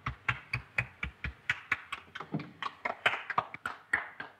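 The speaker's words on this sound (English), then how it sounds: "Applaud." Hands clapping in a steady, fairly close rhythm of about a dozen claps, a small group applauding indoors in a 1932 film scene, with no talk over it.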